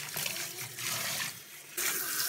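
Running water rinses a Yorkie during a bath at a sink, a steady close hiss and splash that briefly softens and then surges again, with no talk.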